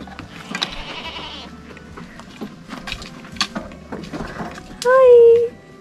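A goat bleats near a family home in Yakten village, East Sikkim: one loud, wavering bleat near the end stands out over chatter, background voices and faint clatter.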